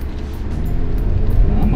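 A 2024 Hyundai Santa Fe SUV brakes hard during a braking test, a loud broad road and engine roar that swells toward the end.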